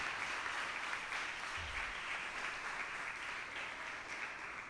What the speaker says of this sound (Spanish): Denle ese aplauso a Él,